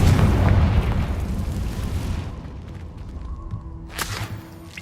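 A heavy, booming blast from the Confringo fire spell in Hogwarts Legacy, loud at the start and rumbling away over about two seconds, followed by a quieter sharp crackle.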